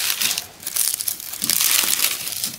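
Baking paper crinkling and rustling inside a tart tin while a lemon meringue tart is prepared, a steady close crackle with brief pauses and no talk.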